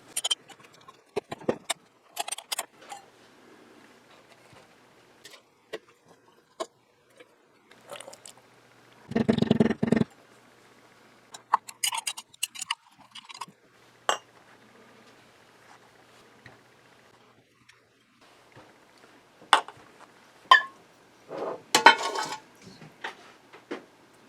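A metal knife presses hamburger meat down into a glass canning jar, giving sparse, quiet scrapes and clinks separated by near silence, with a few short, louder bursts of clatter.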